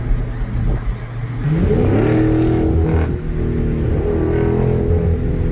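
A non-supercharged car's engine revs up and accelerates up the road, a low idle rising after about a second and a half into a loud, sustained roar with the pitch climbing and shifting, close by and without talk.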